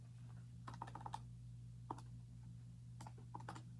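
Keyboard typing, several bursts of light clicking keystrokes spread out over a few seconds, quiet and close above a steady electrical hum.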